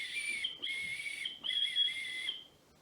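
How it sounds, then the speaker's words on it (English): A whistle blown by a witch, a shrill, pure tone in three bursts, the second and third drawn out, faint and alone. "she blew upon a whistle that hung around her neck"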